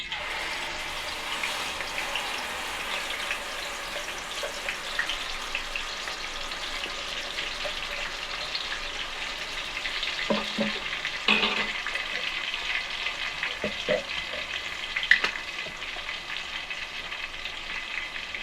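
Onion paste and vegetables fry steadily in a pan for a Nellore-style fish curry, giving a dense, continuous sizzle with a few sharp stirring clinks and scrapes midway. No one speaks.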